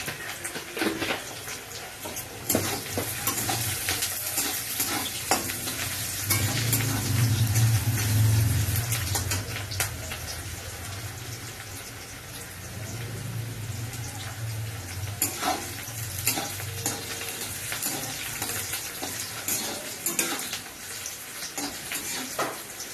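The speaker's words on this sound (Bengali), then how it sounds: "পেঁয়াজে অল্প করে নুন দিয়ে দেবো, তাতে পেঁয়াজটা তাড়াতাড়ি একটু ভাজা হয়।" Sliced onions with a little salt frying in a pan while a cook prepares a Bengali lotte fish jhuri, giving a steady, fairly loud sizzle with intermittent scraping stir strokes, no talking.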